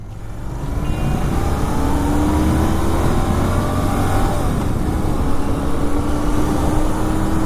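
Royal Enfield Continental GT650 motorcycles roar together in a race, their engines loud and close with rising, sweeping revs and a steady, dense exhaust drone that never lets up.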